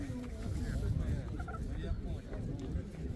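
Hens clucking and murmuring close by at a bird market in Pyatigorsk, with a voice talking over the birds.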